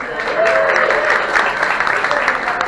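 Guests at a Groundhog Day breakfast in Woodstock, Illinois clap in a short, lively burst of applause, moderately loud and close, with a few faint voices in the room.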